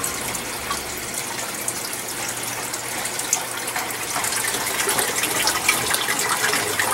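Water gushes steadily from a tap or spray into a pitcher plant, a continuous broad hissing flow that grows slightly louder toward the end.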